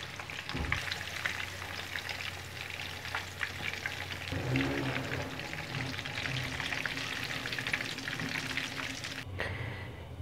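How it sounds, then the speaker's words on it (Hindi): Fish frying in hot oil in a restaurant-style fish fry, a continuous dense crackling sizzle at moderate volume, with a brief clatter near the start and a short drop near the end. "हमारी जो फ़िश है फ्राई हो चुकी है। तो मैं इसको अब निकाल लेती हूँ।"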